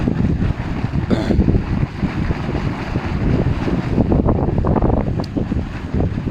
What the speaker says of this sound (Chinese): 这么大风